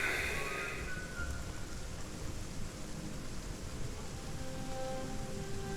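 Rain falls steadily in the Aska video game, a dense hiss with a low rumble underneath, constant and fairly close throughout, with no talking.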